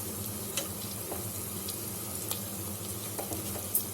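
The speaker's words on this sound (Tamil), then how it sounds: "இது எல்லாம் நல்லா வதங்கட்டும்." Ginger garlic paste sautéing in a pan with onions and coriander leaves for tomato rice: a steady, close sizzle with a few faint utensil clicks and stirring scrapes, no voices.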